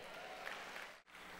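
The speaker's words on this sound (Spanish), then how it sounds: "Aplausos a él." Congregation applauding during an evangelical church service, a continuous wash of clapping from a crowd, fairly soft and steady with a brief dip near the end.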